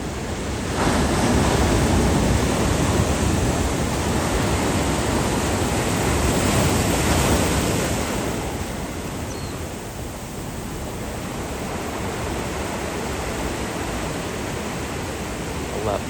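Ocean surf rolls in at Lymans, a left-breaking reef spot in Kailua Kona, as a broad, steady roar of breaking waves that swells louder, then eases to a constant wash, with wind buffeting the microphone.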